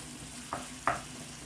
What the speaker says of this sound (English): And then we're going to just give it a stir.